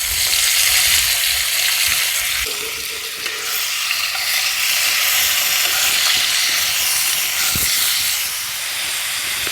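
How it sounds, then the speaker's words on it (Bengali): Chopped tomato and onion with crushed garam masala sizzle steadily in hot oil for a fish curry, a loud continuous frying hiss with occasional stirring scrapes and no voices. "এবার দিয়ে দিচ্ছি কুচনো টমেটো, কুচনো পেঁয়াজ, একটু বেশি পরিমাণে নিয়েছি পেঁয়াজটা।"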